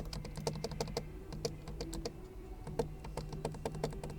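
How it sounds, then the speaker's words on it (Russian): Steering wheel switches in an Exeed VX Limited Edition car being clicked repeatedly up close, a rapid run of crisp plastic clicks in quick irregular succession with a short pause midway, over a faint low hum. "Вот эти переключатели. Послушайте звук от этих переключателей."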